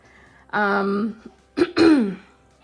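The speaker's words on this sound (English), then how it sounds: "I'm clearing my throat a lot" Two separate bouts of throat clearing, close and fairly loud, the second a harsher double rasp.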